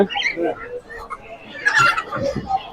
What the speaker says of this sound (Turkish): Bunlar Kharkov tövüklerim.